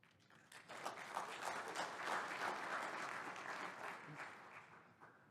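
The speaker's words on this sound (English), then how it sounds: "I love a round of applause." An audience at a panel on industrialized construction breaks into sustained applause that swells, holds steadily for several seconds and then tapers off.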